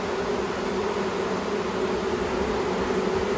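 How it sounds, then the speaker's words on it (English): Bees from a spring swarm catch hum in a box with a steady, dense, loud buzz that stays constant throughout, close by and uninterrupted. "We want to see what bees are in the buggy."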